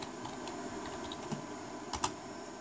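Quick clicks of typing on a computer keyboard as a command is entered, a steady run of light keystrokes with a couple of louder taps near the end, close and alone.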